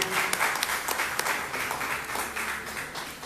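An audience gives a strong round of applause for the panelists at a university research discussion, dense steady clapping filling the whole stretch at close range.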